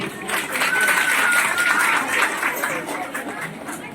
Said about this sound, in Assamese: সকলোৱে হাত চাপৰি দিব।